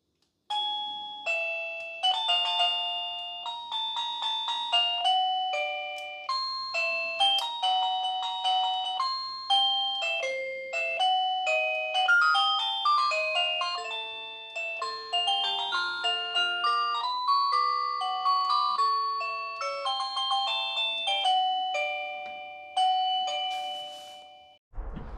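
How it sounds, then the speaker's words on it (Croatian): An Annke smart video doorbell plays a string of different electronic chime melodies one after another. The bright, clear tunes ring close and alone for about 25 seconds, with short pauses between them. "a ovo je da promijenimo melodiju zvona. Ima 10 melodija."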